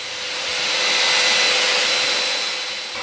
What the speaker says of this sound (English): Here I am drilling a hole